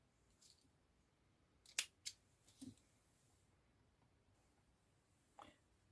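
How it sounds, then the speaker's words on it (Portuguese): Scissors cutting a strand of yarn while finishing a knitted baby romper, a few crisp close snips spaced out in a quiet room, no voices. "Esse fio aqui agora, eu vou cortar e vou arrematar."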